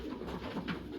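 A winning racing pigeon hen coos softly nearby in a brief, low, throaty burst at a pigeon loft after a one-loft activation race.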